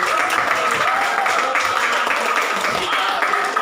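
Classroom applause for a student, a steady wash of many hands clapping at a constant level for several seconds, with children's voices mixed in.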